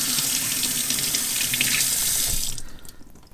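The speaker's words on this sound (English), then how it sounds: "Give it one more rinse." Steady running tap water splashes loudly for a couple of seconds as a prepared quail is rinsed under it, then the flow stops and the sound drops away.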